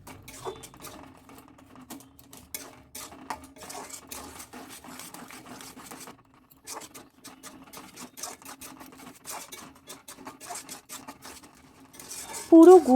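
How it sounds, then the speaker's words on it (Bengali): Spoon scraping and clinking against a pot while date jaggery is stirred into payesh on a low flame, a steady run of small taps and scrapes at moderate level, with a louder knock near the end. "এখন গুড়টাকে খুব ভালো করে মিশিয়ে নেব।"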